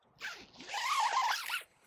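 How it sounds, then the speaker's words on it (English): A tent door's two zips are pulled together at once on an Outwell Lakeville 5SA or 7SA family tent, making a close, loud rasping run that pauses briefly and then continues steadily for over a second. "I've just done both zips at the same time, haven't I?"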